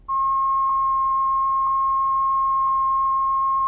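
A pure 1,000 Hz sine test tone starts abruptly and holds steady and loud with constant pitch, alone without any voice.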